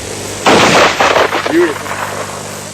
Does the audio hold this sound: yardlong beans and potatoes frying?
no